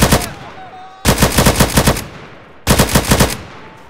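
AK-47 rifle firing in GTA, three loud, close bursts of rapid automatic shots, each about a second long with brief pauses between, no talking.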